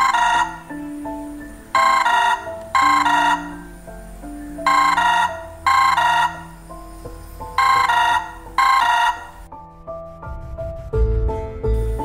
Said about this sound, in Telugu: నాకు వచ్చిన ఒకే ఒక ఫోన్ కాల్ నన్ను చాలా బాధ పెట్టింది.